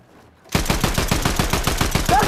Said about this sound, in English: I'm gonna shoot your feet if you peek it.